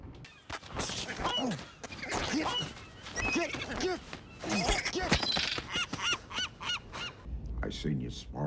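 Shrill, honking calls of a one-eyed gull tormenting a lighthouse keeper, a dense, overlapping series of harsh cries rising and falling throughout, loud and near, with a raspier squawking close at the end.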